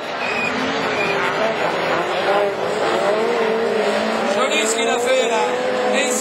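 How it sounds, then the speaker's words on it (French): A blue Clio rallycross car with yellow rims on a Division 4 track at Châteauroux roars loudly and steadily, with braking and locked rear wheels producing a continuous engine drone. A voice talks faintly beneath it. "quand ils freinent, ça bloque les roues arrière"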